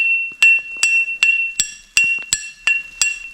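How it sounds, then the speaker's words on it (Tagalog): A small bell, called a beer bell, is struck about eight times at a steady, quick pace outdoors in the cold. Each strike gives a bright, ringing clink with a short decay, close and clear, with no talk. "Ring the bell. Beer bell."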